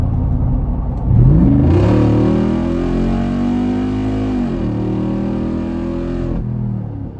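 A tuned Jeep Rubicon 392 V8 accelerates hard, the engine rising in a loud, close climbing roar through a gear, then holding a sustained drone before easing off.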